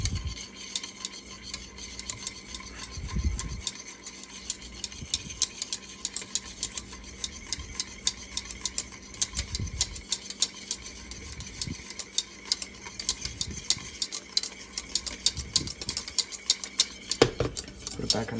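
A spoon stirs Jim Beam bourbon caramel in a pot with repeated scraping strokes against the metal, over a faint background hiss, close and steady with no talking.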